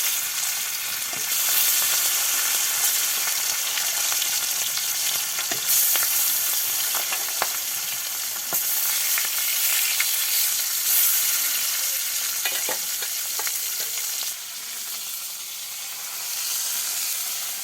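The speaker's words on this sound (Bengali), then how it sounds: "এবার গরম তেলে মাছগুলো দিয়ে দিচ্ছে।" Kala baush fish pieces frying in hot oil give a loud, steady broadband sizzle that runs continuously, with occasional crackles and a brief dip before resuming, no voices.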